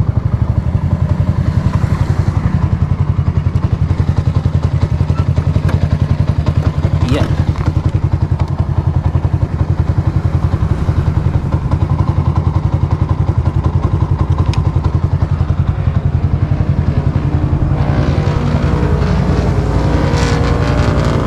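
Loud, continuous engine drone of large motors, heavy and close, with thumps and clatter mixed in and people talking over the noise throughout.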